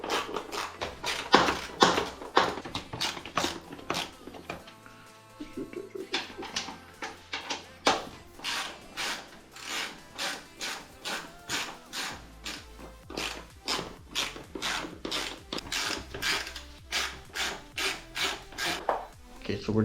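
Screws being worked loose with a 6mm tool on a KTM Super Duke 1290R motorcycle, a steady run of close, repeated rasping ratchet-like clicks in rhythmic bursts, with a brief quieter pause partway through.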